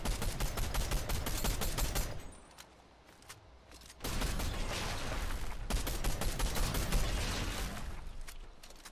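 Rapid Fortnite gunfire tears into trees, long loud bursts of automatic shots that stop briefly for a quieter pause before another sustained volley, with no talking.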